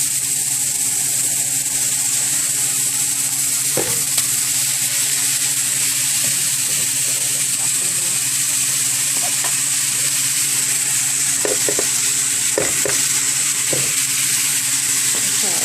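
Ground beef frying in a pan gives a steady, dense sizzle with occasional faint clicks of stirring, close and continuous, with no talking.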